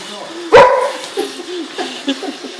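A Boxer dog gives one sharp, loud bark at a Roomba robot vacuum indoors, followed by softer whimpering noises, with people talking around it.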